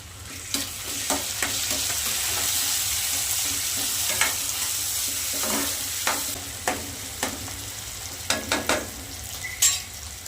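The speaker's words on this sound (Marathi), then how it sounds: "कांदा मस्त लाल होऊ द्यायचा आता कांदा आता पण टोमॅटो टाकून घेऊया त्याच्यात" Onion and tomato frying in a pan for a potato bhaji, a continuous hiss of sizzling oil with intermittent spatula scrapes and taps, close and steady.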